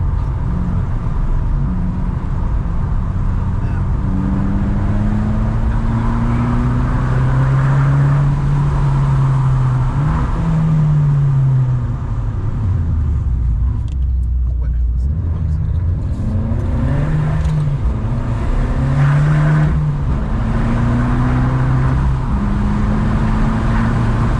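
A 2019 Abarth 595 Competizione drives along a road, its steady engine drone rising and falling with shifts and revs, heard from inside under intermittent talk.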